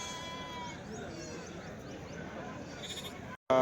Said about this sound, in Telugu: పెద్ద సైజు మేకలు.